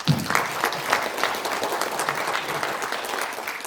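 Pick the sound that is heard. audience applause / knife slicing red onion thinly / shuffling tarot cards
audience applause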